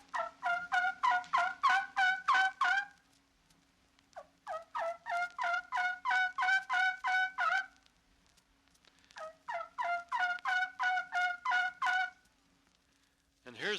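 Turkey yelps made on a yelper call come in three runs of rapid, evenly spaced notes, each series lasting a few seconds with short pauses between, clear and fairly close.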